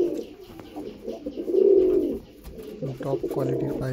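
Up close, a pilanka-eyed breeder pigeon pair with a pattee hen and an older cock coos in a deep, rolling call that swells and fades, followed by shorter murmuring notes.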